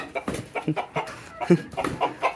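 Desi village chickens cluck in short, choppy bursts at close range, several birds calling in quick succession as if squabbling.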